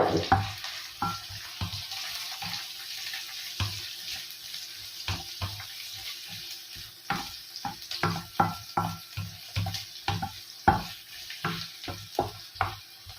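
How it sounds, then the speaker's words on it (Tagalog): Onion laid into a pan of sautéing garlic and ginger crackles softly under repeated sharp stirring clacks of a utensil against the pan. "ilapagin na po natin yung sibuyas. Kasi ayaw ko po nang masyadong nasusunog yung bawang"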